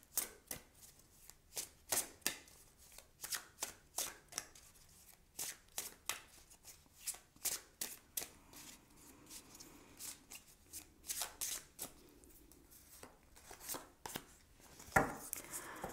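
Oracle cards are shuffled by hand for a tarot-style reading, a long run of crisp riffling and flapping bursts in quick irregular rhythm, close and fairly quiet, with no talking.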